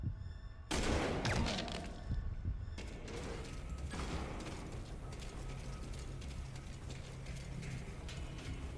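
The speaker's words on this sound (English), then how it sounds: "Definitely heard the gunshot, right?" Gunfire in Metal Gear: a sharp loud burst near the start followed by a continuous clattering, mechanical rattle of rapid shots and ratcheting noise, with no voices.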